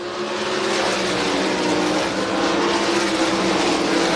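USAC race cars racing at Williams Grove Speedway, a loud continuous engine roar from the pack that holds steady with a slight swell, with no voices over it.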